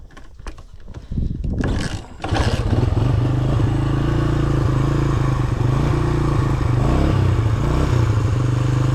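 A cold 1970s Honda XL Enduro motorcycle engine starts after a short clatter and settles into a loud, steady idle with the choke on, warming up close by.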